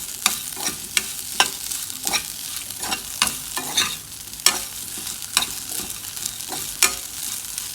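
A kozhukattai filling is sautéed in a pan with a little oil, with a rhythmic run of loud, close spatula strokes scraping over a constant sizzle and no talking.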